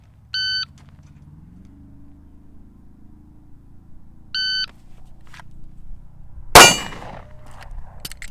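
A shot timer gives two spaced electronic beeps, followed by a single sharp Sig 365XL pistol shot striking steel targets about 5-7 yards away at an outdoor range, with a ringing clang and a faint tail afterward.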